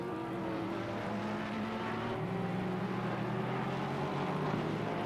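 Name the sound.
GT3 race cars accelerating, Porsche and Ferrari, Assetto Corsa Competizione video game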